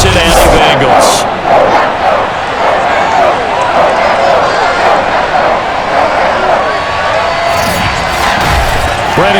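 A sold-out stadium crowd in Madden NFL 22 roars loudly and steadily through a New England Patriots versus Cincinnati Bengals game introduction, under broadcast commentary.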